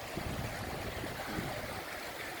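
A broad, steady rush of flowing floodwater after heavy rain in Madipakkam fills the scene, constant and fairly close, with no voices.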